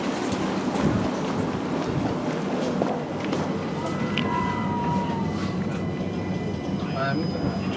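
London Overground Class 378 train passing on the line toward Stonebridge, a steady broadband rumble with faint squeals and hums throughout, close and continuous, with station ambience and speech-like murmur underneath.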